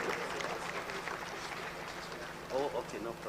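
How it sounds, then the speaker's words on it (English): Conference audience clapping together for a doctor after a session, a steady wash of applause filling the room with some voices mixed in. "Let's give the doc another big hand of applause"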